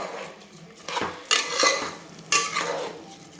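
Rice is stirred with spices in a pot for chicken biryani, the spoon scraping and clinking against the metal in a few close, loud bursts separated by softer shuffling.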